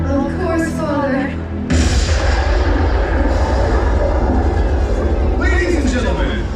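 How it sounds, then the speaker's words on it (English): A ceremonial cannon booms at a SeaWorld theme park pirate show, one loud blast that cuts in after a stretch of talk and music and is followed by a sustained roar of noise and cheering. "let us ignite the ceremonial cannon to commemorate the closing of this year's mermaid celebration"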